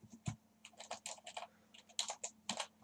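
Fast, irregular bursts of keystrokes on a computer keyboard, close and clear, with brief pauses between clusters of clicks and no voices.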